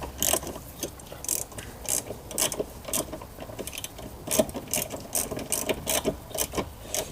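A hand ratchet clicks in short repeated bursts while tightening a bolt on a Honda fuel filter, close and crisp, the pawl rattling in a steady back-and-forth rhythm.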